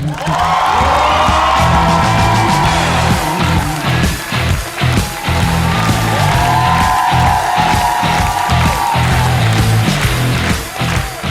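Studio audience in a Ukrainian comedy show cheering, whooping and yelling loudly for a comedian's jokes, a sustained roar with rising shouts and rhythmic crowd pulses throughout.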